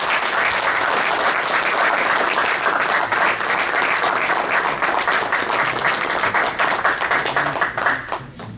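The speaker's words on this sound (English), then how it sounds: "A big round of applause, please." Sustained, dense applause from an audience at a community talent event, many hands clapping at an even volume before tapering off quickly at the end.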